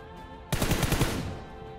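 A sudden short burst of rapid gunfire in a battle royale video game, several quick shots close and loud, then fading out.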